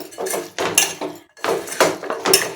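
Chicken pieces being mixed with turmeric, chili, salt and coriander powder in a metal bowl, heard as a few close, bright clinking and scraping strokes of a spoon against the dish.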